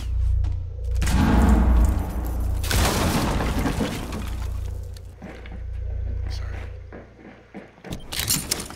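Bursts of gunfire in the tactical shooter Rainbow Six Siege during a Consulate team deathmatch bomb round, loud and crackling in several volleys with shattering impacts, mixed with game sounds and voice chat.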